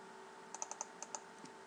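Locations being typed on a computer keyboard, about seven quick, crisp keystrokes in a short burst, followed by one more after a brief pause, faint and close over a steady background hum.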